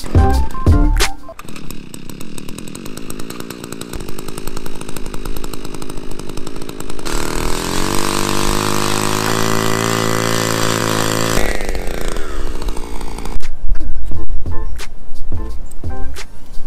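A power ice auger drills through lake ice near a sinking ice house: a loud, buzzing two-stroke engine revs steadily, surges higher midway, then drops back to a rough idle, with no talking.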